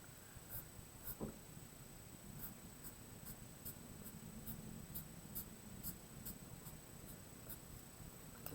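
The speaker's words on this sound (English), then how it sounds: "I'm going to make a pencil line around here so I know not to put any other lines inside where the eyes are." Pencil on paper drawing lines around the eyes of a bear sketch, with soft rhythmic scratching strokes repeating steadily, very close and faint in a quiet room.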